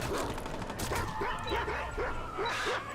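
Dogs in the Watch Dogs 2 video game bark in a quick run of sharp yips amid game noise, with faint speech in the background.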